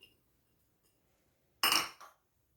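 A utensil clatters against a dish while chicken casserole ingredients such as chopped onion are mixed in: one sharp, bright clink followed by a brief second knock, otherwise near silence.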